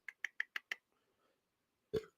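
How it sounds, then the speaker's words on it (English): A quick series of five sharp, faint clicks or taps is followed by a single short, deep burp from a nearby person after a brief pause, heard alone without talk. "Excuse me, I just burped."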